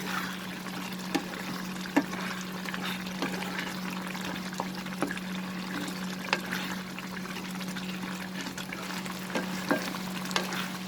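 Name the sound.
stirring prawn and sponge gourd curry in a pan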